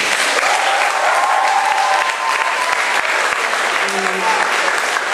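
A school audience at a "1z10" quiz contest at III LO in Bielsko-Biała applauds the participants after the second round, with loud, continuous clapping from start to finish.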